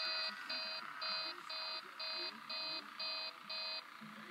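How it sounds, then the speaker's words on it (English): An alarm in the Five Nights at Freddy's video game beeps in a steady run of eight evenly spaced electronic bursts, fairly loud and close, with faint low room noise underneath. "Stop beeping."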